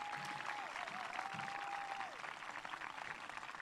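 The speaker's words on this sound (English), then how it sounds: "I'd like one more round of applause for all the seniors here tonight" An audience claps at an evening senior awards event, a steady dense patter of many hands that carries at a moderate distance, with a thin tone running through the first two seconds.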